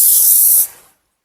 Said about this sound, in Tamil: ஸ்ப்ரே பண்ணி